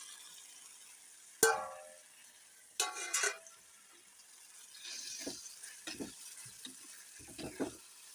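Mashed roasted eggplant tips into a pan of cooked onion and tomato with a couple of sharp sizzling bursts, then quieter intermittent stir-frying scrapes and hisses nearby.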